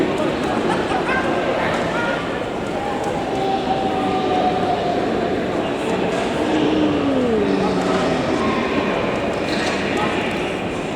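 Low rumble of a train at a station, with a rising and falling tonal squeal or whine and faint voices in the background, at the original international station for Eurostar trains to Paris.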